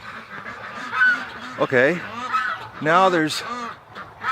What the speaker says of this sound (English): Okay, we're getting overrun with geese here.